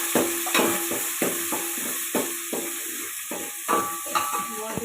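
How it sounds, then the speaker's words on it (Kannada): Onions sizzle in hot oil with mustard seeds and cumin for shavige upma, a constant frying hiss broken by regular scraping and tapping of a spoon stirring the pan. "ನೋಡಿ, ಈರುಳ್ಳಿ ಫ್ರೈ ಆಗುತ್ತೆ ಅಂದಾಗೆ."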